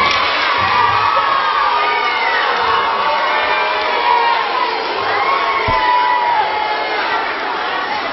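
Middle school students cheer and shout together at a school assembly, a loud, sustained crowd roar of whoops and children's voices that holds steady for the whole stretch.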